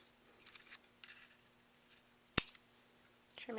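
Scissors trim a paper card in a few soft snips, followed by one sharp, close click and a faint rustle at the end, quiet surroundings and no talking.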